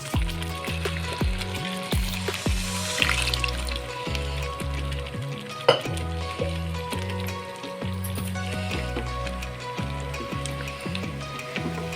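Hot water splashes into a pot of boiling spinach dal in a home kitchen, a continuous liquid pour and bubbling texture over a steady music-like background.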